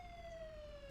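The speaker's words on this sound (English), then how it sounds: "Turn your sirens off" A Roblox emergency vehicle siren holds a steady, slowly falling wail, loud and continuous throughout with no talk over it.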